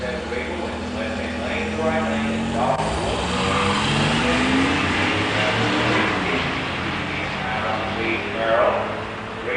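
Drag race between a 1987 Buick Regal Turbo and a 1987 IROC-Z Camaro 350 automatic, engines droning and rising in pitch as the cars accelerate, loud and sustained, with a voice talking over them.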